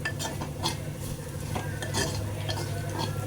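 A masala mixture is stirred in a pan, a spoon scraping and tapping in short strokes over a low, steady hum; no voices.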